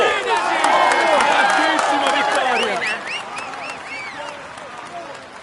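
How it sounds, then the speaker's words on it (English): A video game crowd at a Tour de France stage finish applauds and cheers with scattered whoops, loud at first and then gradually fading away. "Come on, let's applaud him once more."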